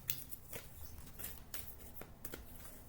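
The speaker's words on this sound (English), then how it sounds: "They're very big cards to shuffle." Large oversized oracle cards being shuffled by hand, a run of soft papery riffles and slaps repeating in irregular bursts, close and fairly quiet with no talking.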